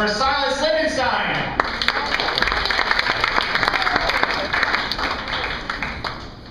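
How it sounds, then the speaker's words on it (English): A comedy club audience applauds comedian Silas Lichtenstein as he takes the stage, steady close clapping with some crowd noise, right after a voice introduces him. "a warm round of applause for Silas Lichtenstein"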